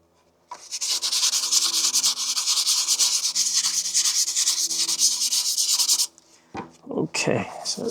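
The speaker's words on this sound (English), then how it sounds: "I'm gonna try wet sanding it, see what happens." Wet sanding of a UV resin 3D print coated with baby powder or cornstarch: a loud, continuous scratchy rubbing that runs for several seconds, stops abruptly, then returns in a few short strokes.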